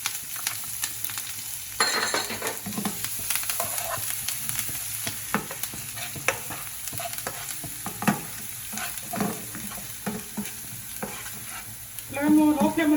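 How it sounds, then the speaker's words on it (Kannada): Curry leaves, green chillies and garlic sizzle steadily in a pan on low flame, with the spoon stirring and scraping throughout and a louder burst of crackling near the end; no one talks. "ಫಸ್ಟ್ ಇದು ಫ್ರೈ ಮಾಡ್ಕೊಳ್ತೀನಿ."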